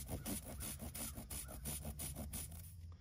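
A reamer tool is worked in and out of a puncture in a Polaris Ranger UTV tire, making quiet, rhythmic rasping scrapes about every quarter second, close up and faint.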